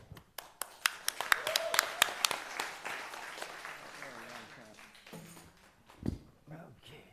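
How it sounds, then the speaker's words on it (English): After a documentary screening, a panel audience claps in sharp individual strikes that thin out after a few seconds, then fade under quiet talk. "can we get another round of applause?"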